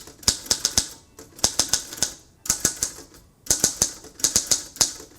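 Fingers tap a keyboard with square plastic keys in quick bursts of four to six sharp clicks, separated by brief pauses, close and crisp.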